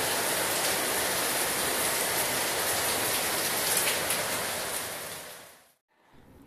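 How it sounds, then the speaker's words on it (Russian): Steady tropical rain at a resort hotel, a loud even hiss of falling water that continues for several seconds before dropping away almost to silence, then returning briefly. "тропический дождик."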